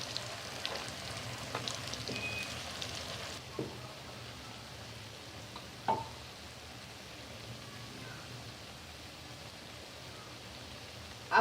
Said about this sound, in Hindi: अब मैं ऑयल में प्याज डालूँगी।